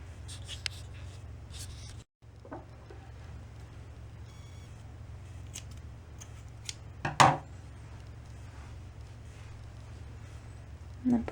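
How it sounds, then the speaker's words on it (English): Faint snips and rustles of scissors cutting crochet yarn, a few sharp clicks scattered over a quiet background hum. "Take your scissors and cut it."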